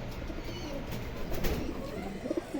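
Racer pigeons in a loft coo in soft, low murmurs that run steadily against a faint background hiss, with no talking.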